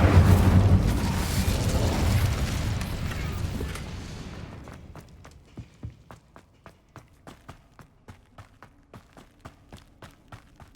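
An Incendio fire spell in Hogwarts Legacy goes off as a loud, roaring blast that slowly fades over several seconds. Then comes a steady rhythm of distinct footsteps.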